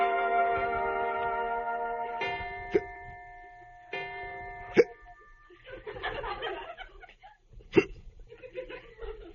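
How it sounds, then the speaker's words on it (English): A man's hiccups ring out in a radio comedy bedroom scene, three or four sharp isolated hics spaced a few seconds apart, with a sustained tone and soft chuckling sounds between them. "George, do you have the hiccups?"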